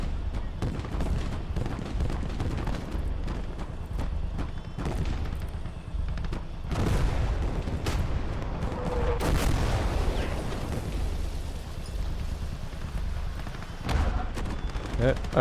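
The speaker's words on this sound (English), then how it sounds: "we've got artillery coming in, a real threat." Artillery and gunfire fill a World War II battle in the video game Call to Arms Gates of Hell: Ostfront, USSR versus Germany. Repeated booms and cracks land at varying distances over a constant rumble, with a few louder impacts toward the middle.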